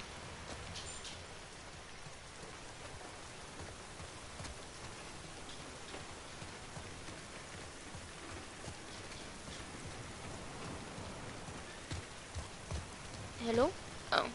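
Steady, dense rain falls across rainy Seattle in the video game The Last of Us Part II, a constant wash of pattering drops that continues throughout, with a few louder splashes near the end.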